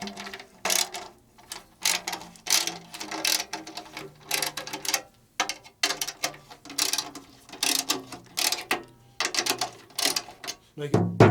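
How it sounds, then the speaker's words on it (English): Repeated bursts of ratcheting gear clicks from a drum key turning a drum head bolt go on steadily in short rhythmic runs, close by and moderately loud, with brief gaps between turns. "you're going to hear the gears clicking here"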